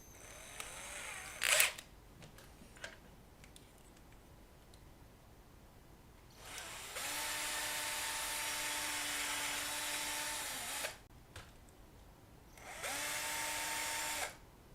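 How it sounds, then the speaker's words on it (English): A power drill bores a hole in bursts, its whine stopping and starting, with two long sustained runs near and loud and a short pause between them, plus a few clicks beforehand. "And maybe drill some more."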